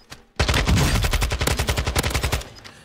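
A rapid burst of automatic gunfire in the battle royale game Warzone 2.0, around twenty evenly spaced, loud close shots in about two seconds, starting abruptly and fading out.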